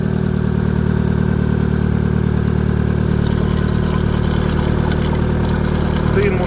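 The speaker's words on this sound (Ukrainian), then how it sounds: "Мотор працює рівно." Close, loud Mitsubishi Lancer 9 1.6 4G18 engine with automatic transmission and 231,000 km idling at a steady, even hum with a constant low throb and faint mechanical ticking, no change in revs.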